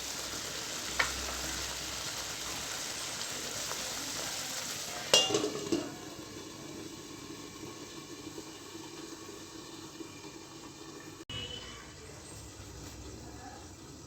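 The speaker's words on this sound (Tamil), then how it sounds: "அப்படியே ஒரு 5 நிமிஷம் வந்து சிம்மில் வச்சு கொதிக்க விட்டு எடுத்துக்கலாம்." Curry leaf kulambu simmers in a pot over low heat, giving a steady broadband sizzle and bubbling with one brief clatter midway and a faint clink later; no talk.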